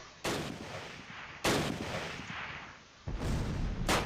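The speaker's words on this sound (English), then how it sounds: "Oh, that was a mortar hit." Sharp, loud impacts from a mortar hit and gunfire in the Close Combat wartime strategy game, three separate blasts, each followed by a decaying rumbling tail.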